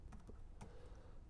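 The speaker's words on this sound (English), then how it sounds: "So I'm gonna type in http://myloom.local." A computer keyboard is typed on for a URL, producing a short burst of soft, close key clicks, a few quick taps, then a pause and one more tap, heard faintly with no talking.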